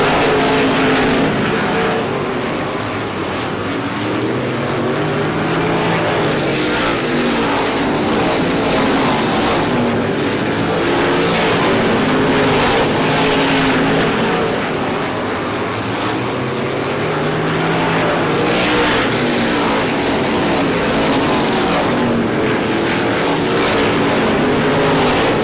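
Supermodified race cars roar around the oval at Star Speedway during the ISMA Classic 150, loud engines swelling and receding in waves as the pack passes, continuous for the whole stretch with no talk.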